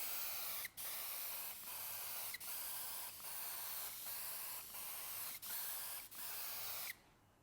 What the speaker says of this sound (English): you can then apply your clear coat to the surface of the leather